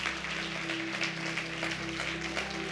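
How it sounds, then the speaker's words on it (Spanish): A church congregation applauds during a Spanish-language service, sustained clapping from many people over a steady low hum, continuous and even. "Dele un aplauso al Señor"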